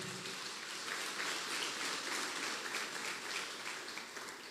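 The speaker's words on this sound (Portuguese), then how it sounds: "aplauda Jesus bem forte" Church congregation applauding during a worship service, a dense steady wash of many hands clapping for several seconds with no talk over it.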